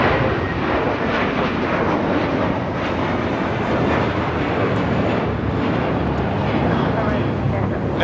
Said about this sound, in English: Taking off to JFK on this A321 with JetBlue Airways Flight 324.